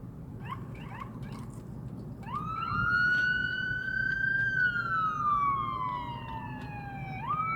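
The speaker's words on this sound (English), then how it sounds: "Ambulance." A wailing emergency siren, taken for an ambulance, rises and sweeps in long slow tones above steady traffic rumble, fairly loud and nearby, with no voices.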